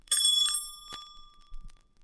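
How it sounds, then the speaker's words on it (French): A little bell rings brightly twice as a fairy's tinkling page-turn signal on a children's storybook record, a sharp strike with long shimmering overtones, then a second fainter ting. "Elle fera tinter ses petites cloches comme ceci."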